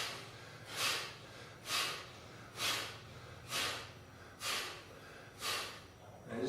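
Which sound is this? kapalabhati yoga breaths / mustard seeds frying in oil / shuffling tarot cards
kapalabhati yoga breaths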